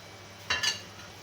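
Sugar tipped into hot ghee in a pan while making zarda sweet rice, giving two quick close sizzling bursts with a scrape of utensil, lasting under half a second before settling back to quiet.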